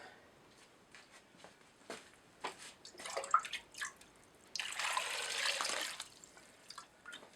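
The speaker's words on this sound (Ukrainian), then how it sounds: "Начистили картопельки, заливаємо водичкою." Water poured from a vessel over peeled potatoes in a cooking pot: a steady splashing gush of about a second and a half near the end, after scattered small drips and clinks.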